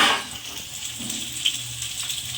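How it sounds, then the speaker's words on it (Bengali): Potato pieces fry in hot oil in a pan, prepared for a Bengali jhinge aloo posto dish. A soft, steady sizzle hisses quietly and continuously, with no voices over it. "তার জন্য আলুটা ভাজা হচ্ছে"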